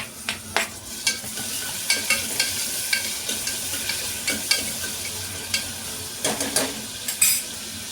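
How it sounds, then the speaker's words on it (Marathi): Fried onions sizzle in a pan as tomatoes go in for a goat trotter curry, with steady frying and repeated sharp scrapes and clinks of a spoon stirring against the pan close by. "कांदा आता फ्राय झाला आपला. आता आपण टमाटर टाकूया."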